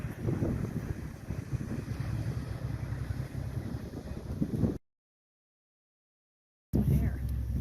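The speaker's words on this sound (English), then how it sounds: "so we are on the ferry, going to Washington Island" Steady wind buffeting and engine rumble on a car ferry crossing to Washington Island in Door County, Wisconsin, continuous and loud, cut by two seconds of silence, then resuming.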